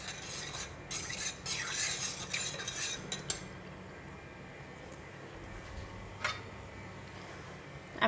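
A utensil stirs clam soup with sesame oil, salt and oyster sauce in a pot, giving light, quick metallic clinks and scrapes for a few seconds, then a quiet simmering hiss with one last soft clink.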